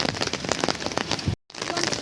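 Heavy rain pours steadily in Vizag, a dense, close hiss of drops striking surfaces, cut by a sudden brief silence before resuming just as loud.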